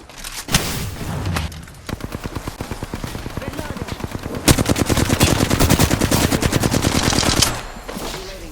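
Rapid automatic gunfire in the shooter Apex Legends rattles in a fast, even stream, starting after a single loud shot, dropping briefly, then returning louder and denser before stopping abruptly.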